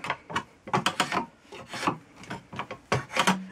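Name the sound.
spokeshave shaving a wooden chair stretcher spindle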